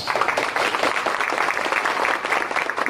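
Workshop audience applauding in a steady, dense round of clapping that fills the room, fairly loud and continuous for the full three seconds with no talk over it.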